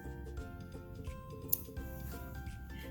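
A single quiet snip of scissors trims yarn close to a knot on a crocheted granny square, heard over a faint, soft background.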